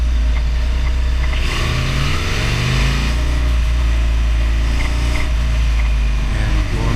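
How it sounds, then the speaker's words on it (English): A vehicle speeds up while leaving a highway, its engine note rising through the gears over a steady, loud road and wind roar, with no voices present. "now I'm speeding up going off the highway"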